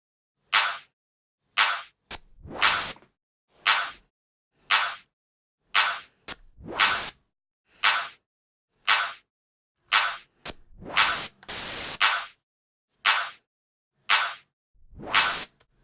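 A 'Rush Up' modulation effect built in Logic Pro X for a song intro: a steady run of short, sharp broadband noise bursts with brief silent gaps between them, some hits longer and denser, loud and alone.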